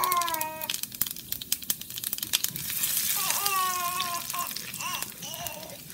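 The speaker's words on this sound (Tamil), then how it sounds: "கடுகு, உளுந்தம்பருப்பு, வெந்தயம் ரொம்ப போடக்கூடாது," Mustard seeds, urad dal and fenugreek hit hot oil in a pan, giving a close crackle of scattered pops that settles into a steady light sizzle, with someone talking over it.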